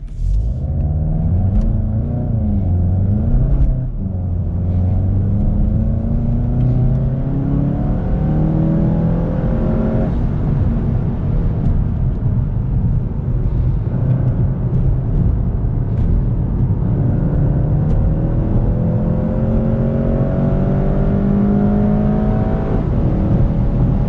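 A 2019 VW GTI with the 2.0T engine and DSG gearbox drives a wet race track, its engine droning and rising through gears as it accelerates and lifts, a steady continuous rumble heard from inside the car without talk.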